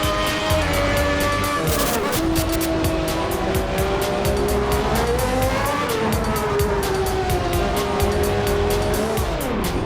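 In the Assetto Corsa racing game, a 1994 F1 car spins out on track. A loud, steady engine whine bends up and down while tires squeal and skid throughout, close and unbroken.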